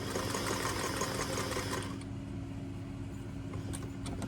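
A sewing machine runs steadily while stitching beside a seam on a pair of pants being turned into shorts, a close, continuous motor hum with a slight drop in brightness midway.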